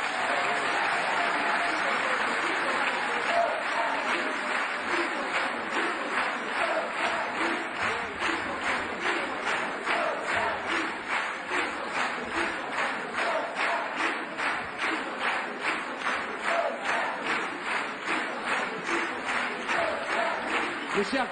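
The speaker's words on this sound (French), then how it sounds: "je vous demande de les applaudir" Sustained applause from a large audience at a French Socialist Party summer university conference, loud and steady throughout, with rhythmic clapping emerging toward the end as the crowd falls into unison.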